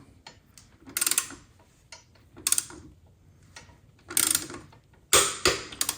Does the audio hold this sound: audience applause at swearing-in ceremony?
no